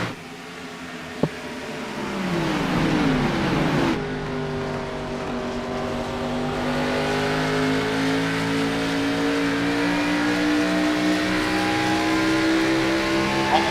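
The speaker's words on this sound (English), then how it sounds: "The sound of those cars" NASCAR X Series race cars at Phoenix Raceway roar past, a rising engine whine sweeping upward, then settling into a sustained loud droning pitch as the pack runs on, with no commentary over it.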